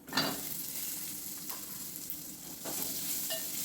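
Chopped onion, garlic and red chilli pieces fry in a pan of tempering with golden dal. A steady sizzle runs throughout, and a few scraping stirs of a spoon sound close by, with no voices.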